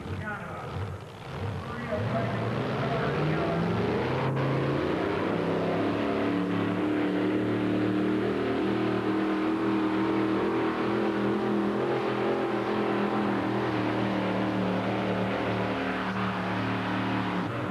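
A truck in the 6,200-pound two-wheel drive class at a 1991 NTPA truck pull in Rock Springs: a loud, sustained engine roar that rises and then holds at high revs for the whole stretch.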